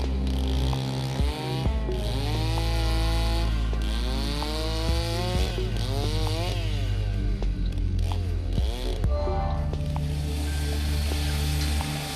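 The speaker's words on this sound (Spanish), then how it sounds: "Las motosierras le dan forma a los bloques más grandes" Chainsaws cutting large blocks of river ice for sculptures at an ice festival in Harbin, China, a loud continuous engine whine rising and falling in pitch as the blades bite, with scraping and knocking throughout.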